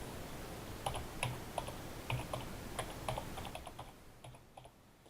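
Keys clicking on a computer keyboard while entering data into a database form, a quiet, irregular run of separate taps and short bursts, close by, with no talking.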